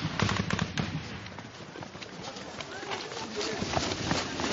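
Gunfire during a firefight in Afghanistan, with dense, overlapping bursts of cracks and pops that carry on without a break, set in a noisy outdoor scene.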